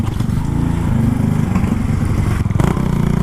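A small Grom motorcycle rides downhill, its engine a loud, continuous buzzing drone with rapid throttle changes and a brief dip near the end, close to the rider throughout.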